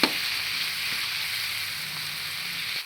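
Tomato and chili powder sizzling in a pan while being stirred for vegetable fried rice, a steady close hiss lasting a few seconds with no one talking.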